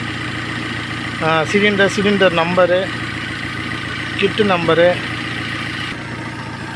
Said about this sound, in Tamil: இன்ஜின் ஆனில் இருக்குது. சிஎன்ஜியில் வண்டி ஓடுது.